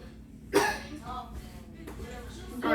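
A single sharp cough bursts out close up, followed by softer throat sounds and another cough near the end, during a coughing-in-the-face prank on a brother, with a voice speaking alongside.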